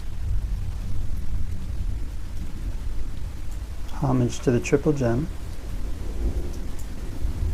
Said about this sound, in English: So today here it's raining quite a bit in the background.